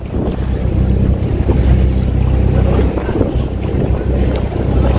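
A boat off El Nido, Palawan pushes through sea waves, with a loud continuous rumble of wind buffeting the microphone and water rushing against the hull, close and unbroken.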